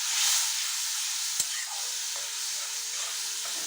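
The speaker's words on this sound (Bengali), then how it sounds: "এবারে আমি একটু জল দিয়ে ভালো করে কষিয়ে নেব।" Vegetable curry with cumin fries in a pan after water goes in, giving a steady, close sizzling hiss throughout with a faint stir or clink partway.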